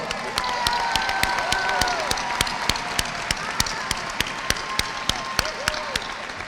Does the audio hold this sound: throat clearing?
no